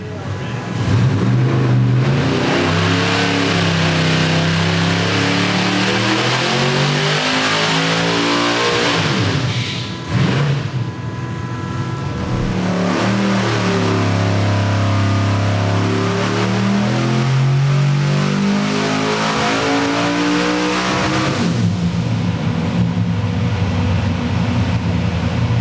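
A twin-supercharged car engine revs on a dyno, its loud sustained roar sweeping up and down in pitch through long pulls, with a brief drop near the middle before it climbs again.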